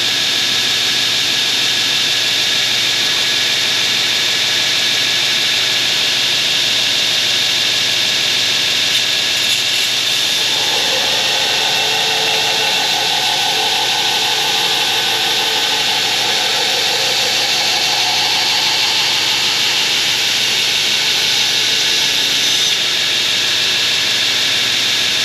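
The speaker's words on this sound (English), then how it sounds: "the rest of that I'm probably gonna take out with the hand sander" A power sander grinds a file knife blade, a loud continuous high whirring hiss that runs without a break, its tone shifting slightly as the steel presses against the abrasive partway through.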